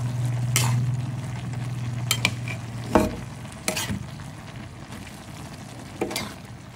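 Ginataang sitaw, string beans in coconut milk with ground pork and chili, sizzles in a pan. A spoon scrapes and stirs at several moments over the constant frying, with no talking.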